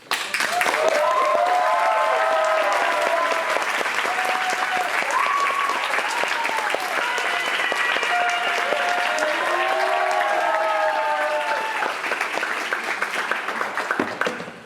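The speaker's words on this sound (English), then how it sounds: "Thanks for all the applause." Sustained applause from a concert audience fills the hall, loud and steady throughout with whistle-like tones riding above the clapping, easing off only at the very end.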